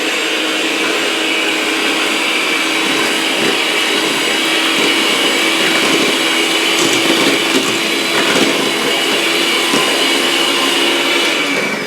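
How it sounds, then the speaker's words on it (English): Electric hand mixer running on low, blending dry ingredients into a wet batter, a loud, steady whirring motor drone that continues unbroken throughout. "So I'm going to take my mixer, and on low I'm just going to kind of gradually mix this in."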